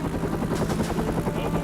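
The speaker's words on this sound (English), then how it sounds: "The helicopter raced 20 yards off the ground to avoid enemy radar." Military helicopter carrying special forces, flying very low and fast over flat desert ground at night; a steady, loud rotor and engine roar with rhythmic blade chop runs continuously throughout.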